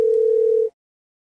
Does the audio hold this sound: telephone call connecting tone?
yes